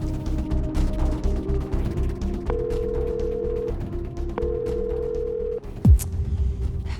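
An unanswered phone call rings out in an Indonesian TV drama scene, giving two long, steady ringback tone bursts over a low background rumble, followed by a short swooshing sweep.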